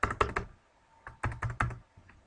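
Two short runs of keystrokes on a computer keyboard, clacking close and distinct in a quick rhythm with a brief pause between groups.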